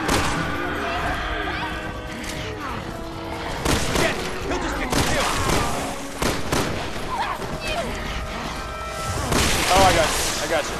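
Gunfire in Resident Evil 6 during the Leon and Helena campaign: repeated loud shots and crashing impacts in irregular bursts amid game noise, with voices talking between them.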